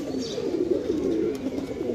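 A Shahjahanpuri cross pigeon pair coos steadily and softly, a continuous low murmuring throughout with no talking.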